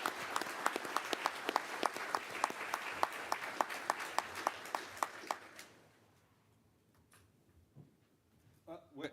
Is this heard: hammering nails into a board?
no